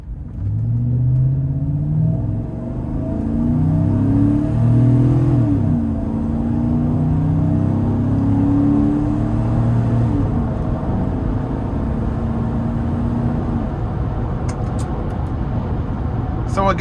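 A 2011 GMC Yukon's naturally aspirated 5.3-liter V8, with 185,000 miles on it, accelerates hard from inside the cabin. It gives a steady, loud engine rumble with rising harmonic tones that sweep upward for about ten seconds and then settle into a sustained drone.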